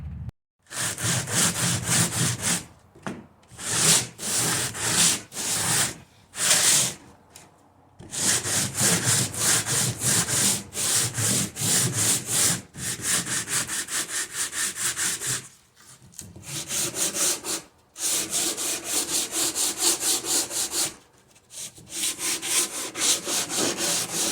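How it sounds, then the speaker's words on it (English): An old, worn piece of wood is sanded down by hand, with loud, steady rhythmic scraping strokes repeated in long bursts separated by short pauses, close up and without talk. "this wood is not in the best shape, so I'm going to sand it down"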